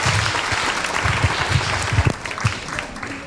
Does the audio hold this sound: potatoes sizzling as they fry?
no